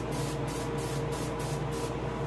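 An airbrush sprays paint onto a largemouth bass being finished for taxidermy, giving a steady, close hiss that runs unbroken with faint rhythmic pulsing throughout.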